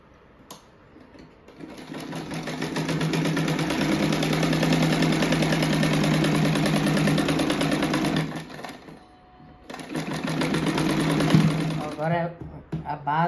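A sewing machine runs steadily while stitching a seam through a quilted tulip-shaped rug, a loud continuous rattling drone that pauses briefly and then resumes, with a final short run near the end.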